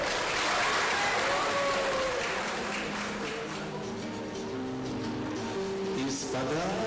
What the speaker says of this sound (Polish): Powitajmy brawami Wasila Łuczenkę